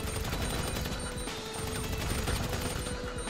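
Dense, continuous gunfire in the video game GTA 5 Online, a steady barrage of shots filling the scene at high level with no clear gaps.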